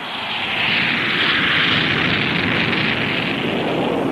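XB-70 Valkyrie supersonic bomber jet engines on a takeoff at Edwards, heard as a loud, steady broadband roar that swells over the first half second and then holds without a break.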